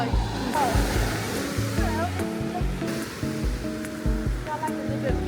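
A stream on a hiking trail bubbles and rushes in a steady, close wash of water, with people talking over it.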